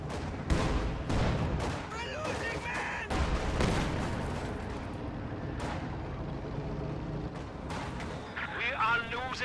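Tank cannon fire from a T-34 and a Panther in Company of Heroes, several heavy booming shots spaced across the stretch amid battle noise, with a commentator talking throughout.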